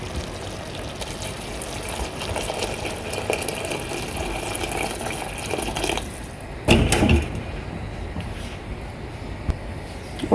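Water poured into a pot of vegetable soup with broccoli, a steady low splashing flow running throughout, with a brief louder gush near the end.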